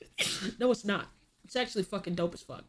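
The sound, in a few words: sneeze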